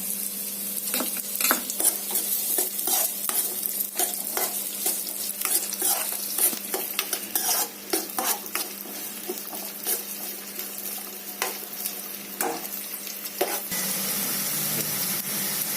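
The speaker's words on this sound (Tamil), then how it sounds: "எண்ணெய் காய்ஞ்சதும் நறுக்கி வச்ச ஆனியனை போட்டு நல்லா வணக்கணும்" Chopped onions sizzle steadily in hot oil while a utensil scrapes and stirs in irregular clicks and scrapes, close up, with no voices.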